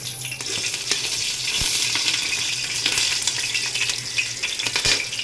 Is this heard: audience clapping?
no